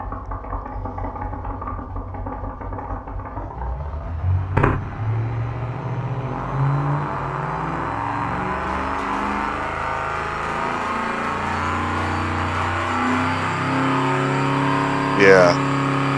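A simulated car engine runs in test mode in the engine-building game Automation, holding a droning, buzzy tone that rises in pitch, with a couple of sharp clicks over it.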